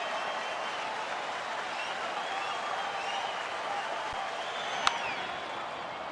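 Crowd noise at Wrigley Field during a 2011 Cubs baseball game, with a steady, loud wash of cheering and applause from a large stadium crowd and one sharp crack near the end.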